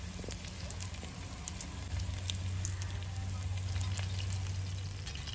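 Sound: tongue fish frying in coconut oil on a tawa

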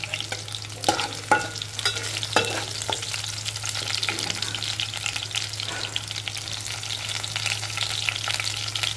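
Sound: onions, green chillies and curry leaves frying in a pan

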